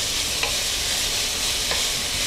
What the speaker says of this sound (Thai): พอควันเริ่มขึ้นนะครับให้ใส่หมูลงไป